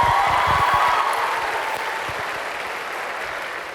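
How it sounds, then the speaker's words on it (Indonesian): A university auditorium audience in Indonesia applauds together: dense, loud clapping that starts at full strength and slowly tapers over a few seconds, with no voices over it. "Kita berikan aplaus untuk kita semua ya"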